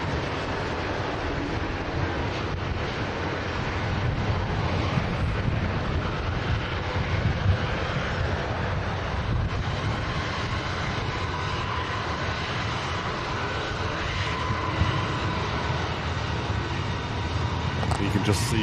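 A jet airliner takes off at Manchester Airport, a broad sustained engine roar mixed with wind buffeting on the microphone, steady and loud for the whole stretch, with a voice talking over it.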